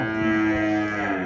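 A male water buffalo at a livestock market gives one loud, deep, drawn-out moo, close by and alone.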